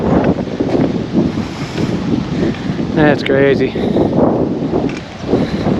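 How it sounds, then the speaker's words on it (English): Strong wind buffets the microphone outdoors beside very low water at a fishing spot, a loud continuous roar with gusty swells, while someone speaks briefly over it. "Super windy."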